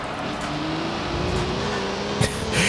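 A steady car engine drone from Gran Turismo 3: A-Spec, a sound used for many Hondas, holding a fairly even pitch with a slight rise, with a faint click near the end.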